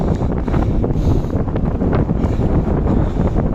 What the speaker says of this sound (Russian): Но ветер хороший в лицо.